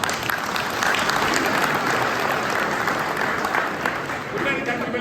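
Sustained, loud applause from a rally audience, dense clapping filling the whole stretch with a steady roar and no break.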